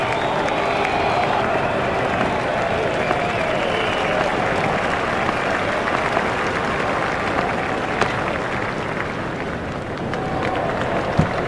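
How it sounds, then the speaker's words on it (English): Simulated stadium crowd in the cricket video game Cricket 07 roaring after a batsman hits a six, a steady, dense wall of cheering and applause that holds loud throughout without easing. "The crowd were brought to their feet by that shot."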